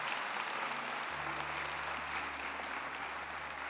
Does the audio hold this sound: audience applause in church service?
yes